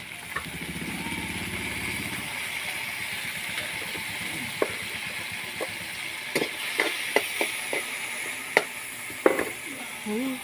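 Palukan sautéing in a hot pan gives a steady low sizzle, with scattered sharp clicks and taps of stirring in the second half.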